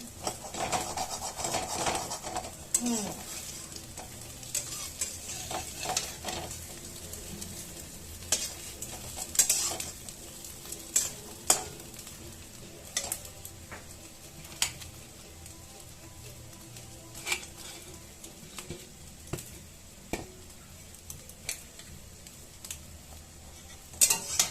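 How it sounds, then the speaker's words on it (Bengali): An egg fries in a pan with a steady low sizzle, and a utensil scrapes and taps against the pan now and then, close and quiet, with no one speaking. "ডিম ভাজা হয়ে গেছে, এটা আমি উঠিয়ে নেব।"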